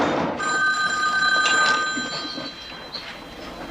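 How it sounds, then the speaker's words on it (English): Telephone in a sitcom home setting ringing with a bright electronic trill, repeated bursts close by over a quiet room. "Aren't you going to answer the phone?"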